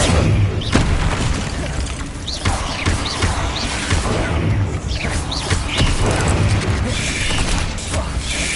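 Fire spell cast in the video game Hogwarts Legacy: dense, continuous crackling whooshes and booming bursts of flame fill the whole stretch, loud and busy with rapid spell impacts and clatter layered together.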